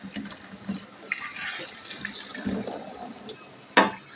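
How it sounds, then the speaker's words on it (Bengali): Hog plums and pointed gourds rinsed under a running kitchen tap: steady splashing water over the vegetables with a few clunks and a sharp knock near the end, close and moderately loud. "তো আমড়া পটল সব ধুয়ে নিয়েছি ভালো মতন"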